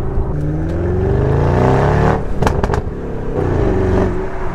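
An Audi RS6 with a Milltek exhaust revs hard, its deep engine note rising and falling under throttle blips, with sharp crackles and pops from the exhaust, loud and close.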